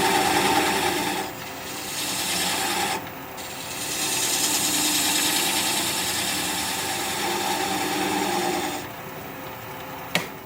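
A gouge cuts a wooden flower pot spinning on a lathe, giving a steady loud rasping, rubbing noise with short pauses where the tool lifts off, close and continuous.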